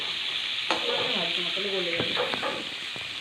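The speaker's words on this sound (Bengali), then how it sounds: "এই তেলের মধ্যে কুমড়োগুলো ভেজে নেবো, একটু অল্প অল্প করে ভেজে নেবো" Pumpkin pieces frying in hot oil for a pumpkin and fish curry, a continuous close sizzle with stirring scrapes and clinks; a voice speaks briefly over it.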